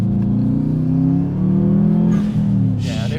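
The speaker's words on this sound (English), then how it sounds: "a Subaru Rumble" A Subaru Impreza WRX with an EJ205 engine gives a loud, steady, low rumble as it accelerates, building through a few seconds of continuous drive, with brief hints of speech in the background.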